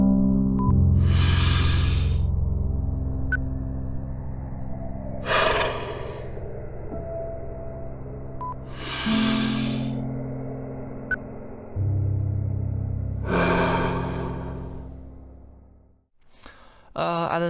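Four slow, loud breaths drawn in and let out in an even rhythm, close up, for a breathing-paced game about exhalation, over a steady low drone, ending in a short burst of sound.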